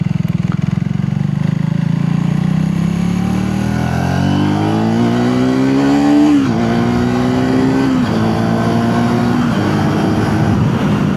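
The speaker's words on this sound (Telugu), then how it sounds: "ఎగ్జాస్ట్ సౌండ్ అయితే కొద్దిగా లౌడ్ వస్తూ ఉంది." Triumph Speed 350 motorcycle exhaust, loud and close, a steady engine drone climbing in pitch through the gears with brief dips at each shift, continuous and alone.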